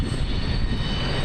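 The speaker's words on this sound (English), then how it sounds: "a Frontier Airlines plane touched down in Billings today" A Frontier Airlines jet arriving on its inaugural flight at Billings airport, a steady loud roar of aircraft engines that fills the short moment evenly, heard without voices.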